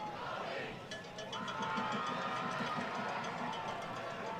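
High school football crowd cheering in the stands at a South Christian versus East Grand Rapids game, a broad distant roar that swells and stays steady through the moment.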